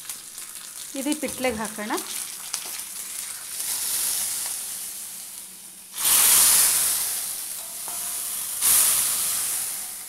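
Curry leaves and asafoetida crackle and sizzle in hot oil for a tempering, a steady loud frying hiss with bursts of spitting. A voice speaks briefly over it at the start.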